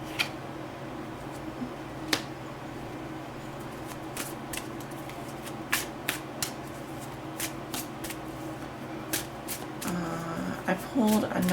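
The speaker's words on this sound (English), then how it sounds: "I'm going to put down one more card." Tarot cards are shuffled in quick, crisp riffles and sharp slaps at close range, with scattered snaps as cards are drawn and laid down, ending in a busier burst of handling.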